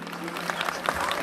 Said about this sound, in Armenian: ծափահարենք ևս մեկ անգամ բոլորին